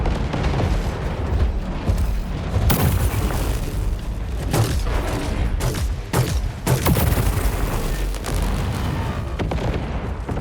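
Missile explosions in the War Robots: Frontiers video game, a run of sharp booms and bursts at irregular intervals over constant mechanical battle noise, loud and close.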